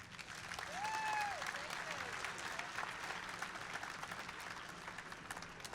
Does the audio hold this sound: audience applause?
yes